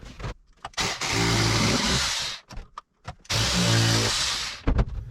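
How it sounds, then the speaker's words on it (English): A power drill whines loudly through wood in two sustained bursts, motor spinning up and down, with brief clicks and handling noises between. "drill them out"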